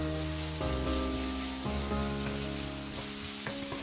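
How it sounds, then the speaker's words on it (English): Onion sautés over medium heat in a pan for a home-made chicken curry, a continuous sizzle overlaid by sustained tonal hum-like lines that shift every second or so. "We have to saute the onion till it gets golden brown."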